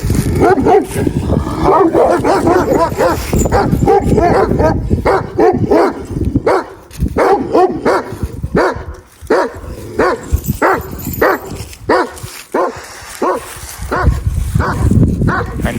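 Dogs bark repeatedly and loudly nearby, with yips and whimpers mixed in, a steady run of sharp barks lasting the whole stretch.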